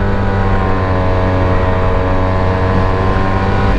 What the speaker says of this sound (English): If I twist the throttle very quickly